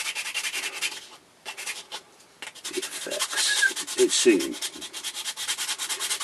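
Sandpaper rubs steadily by hand over a wooden pipe being shaped, with a continuous rhythmic scratching close to the ear that pauses briefly once and then resumes, while a voice speaks briefly.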